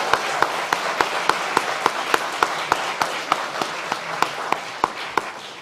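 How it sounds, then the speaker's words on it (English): At Waypoint's annual Shine the Light Gala, the audience claps in an even, regular rhythm of crisp, fairly close claps that continues steadily throughout without pause. "Can I get a round of applause for Emma Reynolds just to start off?"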